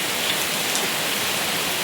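Heavy rain falling, a loud, dense and unbroken hiss of drops on surfaces, steady from start to finish with no other sounds.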